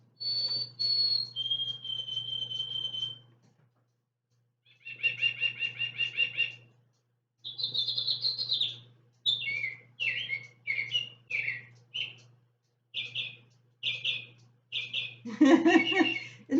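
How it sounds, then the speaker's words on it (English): A singing bird clock plays recorded bird songs on the hour: a sequence of clear whistled tweets and chirping phrases separated by short pauses, moderately loud and close, ending in a burst of busier trilling calls. "Every hour, on the hour, during daylight time, this thing chirps away and gives me all my friendly neighborhood birds songs"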